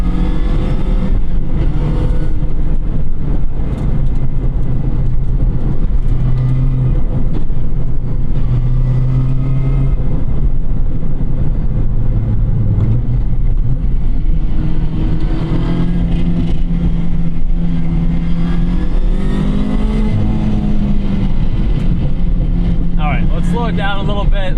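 A Mazda MX-5 Miata set up for track work driving on the road, its engine droning steadily with a faint transmission whine throughout, while someone talks over it the whole time.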